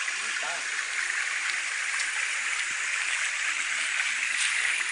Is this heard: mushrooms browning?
no